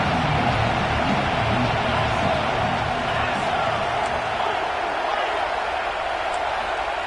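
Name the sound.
stadium crowd cheering at a football game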